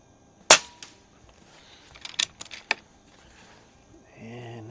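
Air Venturi Avenger air rifle firing a pellet at a 50-yard target, one sharp close crack followed by small clicks and handling knocks, then a brief murmur of speech.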